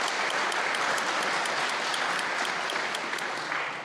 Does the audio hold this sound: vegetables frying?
no